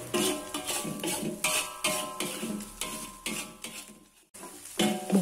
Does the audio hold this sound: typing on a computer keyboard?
no